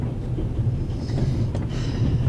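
A train rolls along in The Raven Remastered, a steady low rumble with faint rattling of the carriage continuing evenly throughout, without any voices.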